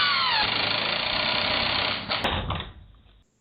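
An impact driver drives a 3 inch Torx head screw with a T30 bit, a steady loud buzzing hammer that runs for about two seconds, then sputters and winds down to silence.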